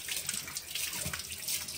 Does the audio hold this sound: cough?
no